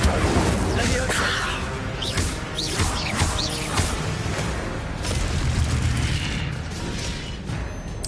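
An Incendio fire spell cast repeatedly in a Harry Potter video game produces loud, continuous, roaring whooshes and booming bursts layered over busy mechanical clatter.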